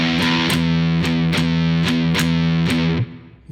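A distorted electric guitar plays a short stoner rock swing riff, the first stroke ringing open and the following strokes tighter and palm muted, loud and close, then fading out after about three seconds.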